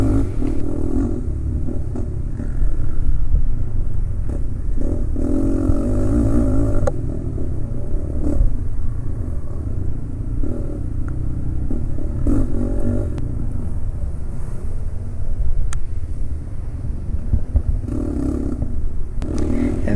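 A four-wheeler ATV engine racing in a hare scramble on an off-road course, a loud, continuous close-up drone that surges and eases with the throttle, overlaid with rattles and bumps from the rough terrain.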